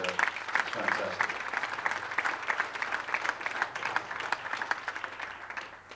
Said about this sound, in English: give Tom and Francisco, even though he's not here, and yourselves a big round of applause